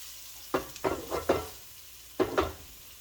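Potatoes being stirred with a spatula in a hot pan while cooking breakfast, giving several short scraping, sizzling strokes in two bursts with quiet gaps between, close and clear.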